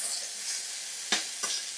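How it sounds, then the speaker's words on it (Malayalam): Oats upma being stirred and mixed in a pan over a steady sizzle, with a few scraping strokes standing out near the end, heard up close. "എല്ലാം കൂടി ഒന്ന് മിക്സ് ചെയ്യുക."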